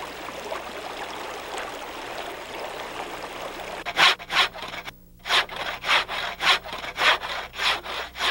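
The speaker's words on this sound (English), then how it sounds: "Today, I would cut wood to build up my supply." Hand saw cutting firewood outdoors beside a frozen creek: steady broadband rasping under trickling water, then from about four seconds loud, rhythmic back-and-forth saw strokes with a brief pause midway.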